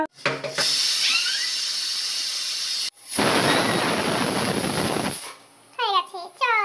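A pressure cooker of mango chutney hisses sharply in two loud bursts of steam, the second cut off abruptly, with a child and an adult talking around them.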